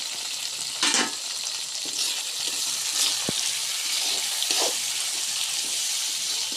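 Tomatoes and turmeric powder frying with onions in a pan for crab gravy make a steady, close sizzle, with a few louder spurts and stirring scrapes breaking the constant hiss.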